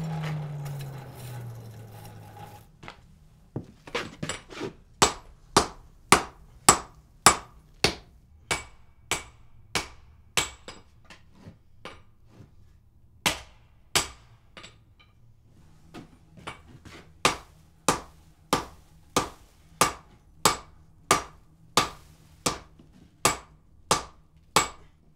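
Heavy hammer blows forge a wrought iron door bolt, landing as a long, steady run of sharp, ringing metallic strikes close by, with brief pauses and a low hum between blows.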